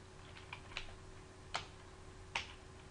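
A few sharp keystrokes are typed on a computer keyboard, single separated clicks spread over a few seconds, quiet and close against a faint steady hum, with no talk.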